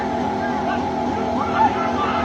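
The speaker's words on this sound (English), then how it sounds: "You can hear the car just revving out of control." A car engine revs continuously out of control in distant recorded street footage, a steady strained drone lasting about two seconds, fairly faint and muffled.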